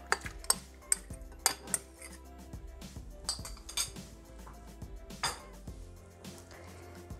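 Mushrooms go into the metal mixing bowl of a Thermomix TM6 during cooking, heard as a series of close, sharp metallic clinks and clatters with irregular spacing, fairly quiet overall.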